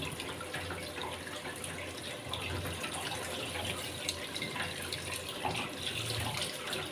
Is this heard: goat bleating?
no